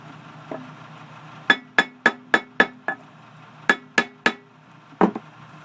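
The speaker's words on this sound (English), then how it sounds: "using the mallet to just gain that extra little bit of oomph that I'm looking for" A mallet taps a cut-down can pot ring into its seat with a series of sharp metallic knocks, five quick strikes, a pause, then three more and a final thud, close and crisp.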